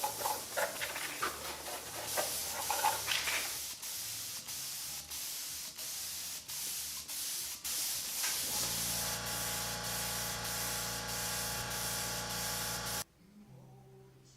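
A detail spray gun hisses steadily as paint is sprayed onto a Telecaster Thinline electric guitar body, with short bursts at first, then a long continuous hiss under a background hum, cutting off abruptly near the end.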